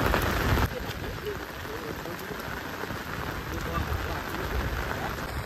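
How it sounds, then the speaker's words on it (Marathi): Heavy rain pouring on fields and water during a fishing outing, a dense, steady patter of drops on surfaces, loud and close throughout, briefly stronger at the start. "पाऊस भयान चालू झाल्यामुळे आम्ही घरी चाललेलो आहे"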